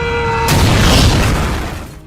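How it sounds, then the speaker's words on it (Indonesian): A bomb goes off inside a room in a film scene: a sudden, heavy boom cuts off a thin electronic tone, then a rumbling blast tails away over about a second and a half. "ketika bom di ruangan tersebut meledak"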